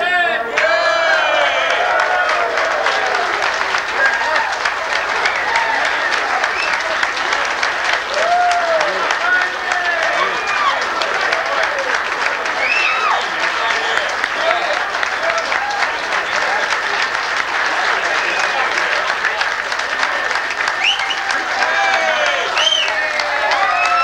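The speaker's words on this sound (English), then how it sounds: "Certainly appreciate that applause" Sustained crowd applause at a plaque unveiling, loud and dense with scattered cheers and whoops running through the whole stretch.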